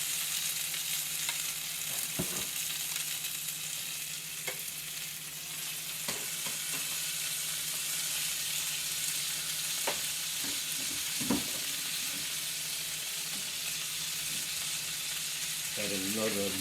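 Meat sears in rendered fat in a paella pan, a continuous bright sizzle with scattered taps and scrapes of a utensil, close and steady, with no talk.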